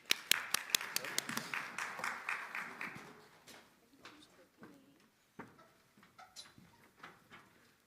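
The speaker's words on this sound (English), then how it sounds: "let's give her a round of applause as she comes" Audience at a university diversity showcase clapping as a speaker comes up, a sparse scattering of sharp claps that thins out over several seconds into isolated taps and faint room noise.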